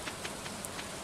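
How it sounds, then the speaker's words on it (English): Soft patter of light rain falling in the Stardew Valley farming game, faint and steady with scattered drops, no voices. "Oh, it's raining."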